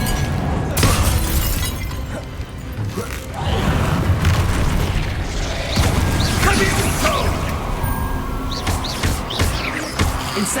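Spell explosions in Hogwarts Legacy, a dense barrage of booms, shattering crashes and debris clatter blasting continuously and loudly with short gaps.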